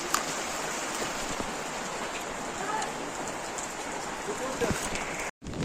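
The first rain of the season falls steadily in a Devgad village, a dense, even patter that holds throughout and then cuts out briefly near the end.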